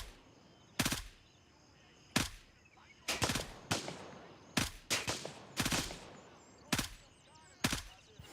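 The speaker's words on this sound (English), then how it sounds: "he's shooting at me through the fence. And I'm also shooting the fence" Bursts of gunfire in the video game Gray Zone Warfare, fired through a fence at close range, arriving as sharp irregular volleys and single cracks spread over several seconds.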